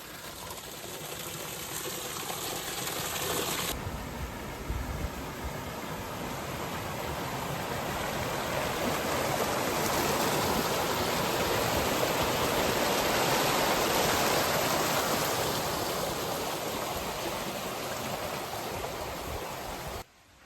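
Water rushing steadily through stone-built Incan irrigation channels at the Ollantaytambo fortress, a continuous close splashing flow that holds the same loud level for the whole stretch with no voices.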